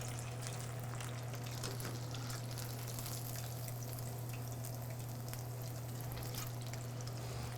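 Battered chicken on its second fry in hot oil for General Tso's chicken, giving a steady, quiet bubbling sizzle with fine crackles, continuous and alone without talk.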